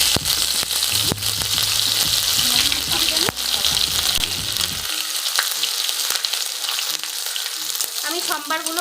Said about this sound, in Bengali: আমি সম্বারগুলো ভালো করে ভেজে নিব।